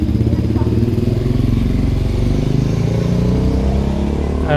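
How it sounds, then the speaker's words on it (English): A motorcycle engine runs loudly and steadily up close on a city street, its low rumbling throb continuous throughout with a hint of rising revs. "That's a really cool motorcycle."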